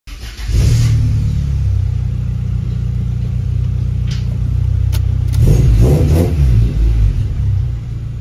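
A 1994-97 Honda Accord with a newly installed cat-back exhaust starts off and drives down the road, its engine note a loud, steady low drone that swells as it accelerates, heard from inside the car.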